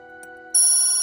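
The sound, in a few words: telephone ringing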